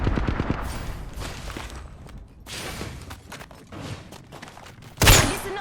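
Video game battle clearing a building floor by floor, with rapid bursts of automatic gunfire and scattered shots, mostly mid-distance, ending in a sudden loud close blast.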